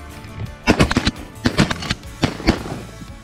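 Shotgun blasts during a Texas duck hunt, three loud bursts of two or three rapid shots each, close by and echoing across open ground, with no talk in between.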